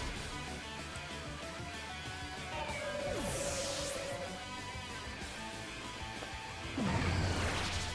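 A Knock Off attack lands in a Pokémon Scarlet battle, with a sharp smashing crash, a swishing whoosh and a hard hit near the end, all layered over steady game music.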